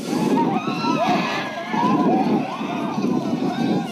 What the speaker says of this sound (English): the crowds probably won't be anywhere near as exhausting to listen to as they are at the moment when they're totally raw